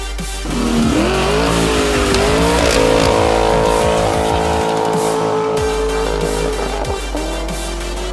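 A loud, throaty 2019 Nissan 370Z performance exhaust drones and revs with rising and falling pitch, close and continuous, with no talking.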